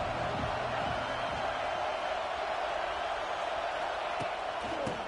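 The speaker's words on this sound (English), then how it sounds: "This crowd ready to make its presence known." A packed football stadium crowd roars in a steady, dense wash of noise throughout, with a few faint thuds, while a commentator talks over it.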